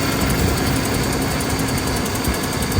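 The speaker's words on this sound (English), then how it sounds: "Starting the engine, driver's side," A Ford F150 with a 5.3 Triton engine, newly installed and rattling at startup, idles steadily with a dense, continuous rumble and a faint high whine, close and loud throughout.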